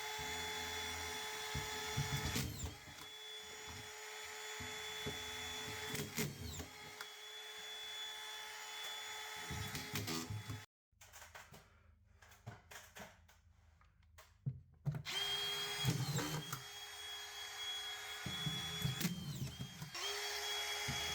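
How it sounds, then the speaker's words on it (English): A Dewalt DCF620 collated drywall screwgun drives screws into a wood stud again and again, each whining motor burst ending in a sharp clack, with a brief quiet gap midway; loud and close throughout. "I'm just showing you me firing in all these screws, but just wanted to demonstrate exactly how well the tool works"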